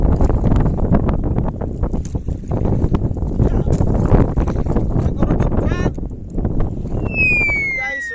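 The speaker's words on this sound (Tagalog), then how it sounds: "kasi masyadong mahangin" Steady broadband wind roar buffets the microphone throughout during traditional handline fishing, with some low rumble and a brief whine near the end.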